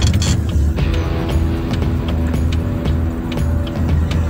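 A Mercedes-Benz car rolls along on a test drive, its engine and road noise making a low, steady rumble from inside the cabin, with small knocks and creaks from the interior mixed in.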